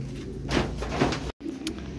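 A bird cooing softly a couple of times, pigeon-like, against low background rumble, with a brief dropout near the end.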